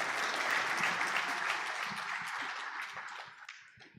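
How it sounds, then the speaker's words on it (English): Audience applause at a hotel managers' conference in Africa, a thick round of clapping that gradually thins out into scattered claps and fades near the end. "another round of applause for Mr. Bayo"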